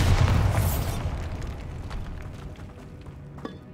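Casting the Bombarda spell in Hogwarts Legacy sets off a heavy explosion, a deep, loud boom that rolls and slowly fades over several seconds, followed by a small sharp knock.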